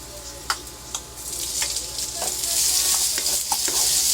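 Chopped tomatoes sizzle in hot oil in a pan while bitter gourd is sautéed, making a steady frying hiss that grows louder, broken by a few sharp ticks and scrapes from stirring, with no talk.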